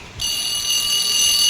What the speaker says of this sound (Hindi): अलार्म रखा था मैंने 8 बजे का